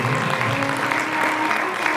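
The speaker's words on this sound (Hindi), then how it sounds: "तो मैं चाहूंगा इस परिवार के लिए भी पर जोरदार ताली से।" An audience at a Bhagwat Katha religious gathering in Ashok Vihar, Delhi, breaks into loud, steady applause that holds for the full two seconds, dense clapping with no clear pauses.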